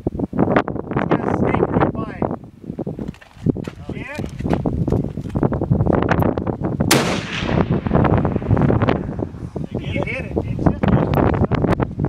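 Big .50 caliber rifle fired outdoors, loud sharp reports punctuating steady wind noise and ongoing talk.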